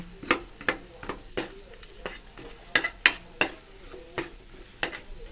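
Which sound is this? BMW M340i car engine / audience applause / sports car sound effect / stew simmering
stew simmering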